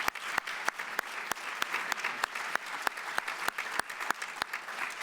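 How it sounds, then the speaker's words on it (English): Clapping at a Veterans Day ceremony in honor of medical staff, a sparse, sharp run of individual claps from a modest crowd, fairly faint and slightly distant. "So a quick round of applause for our medical staff."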